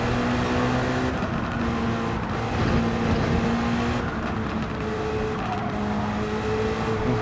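A Toyota GT-One race car in Gran Turismo, its engine droning steadily at high revs with a sustained tonal whine that shifts in pitch as the car holds speed in a close race, with no voices.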